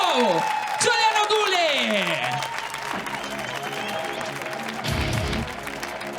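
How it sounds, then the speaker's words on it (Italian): A comedy show audience applauds loudly and steadily in a live venue, with a host's voice and musical tones mixed in over the clapping. "Continuate l'applauso per Daniele Bassi"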